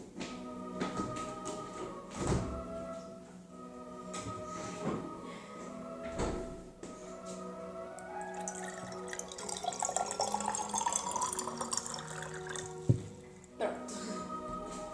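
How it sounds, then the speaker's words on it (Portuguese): Water is poured indoors into a container, a rising gurgling trickle in the second half amid clinks, knocks and sliding sounds, with background noise throughout. "Não tem nada aqui, mas eu vou botar água"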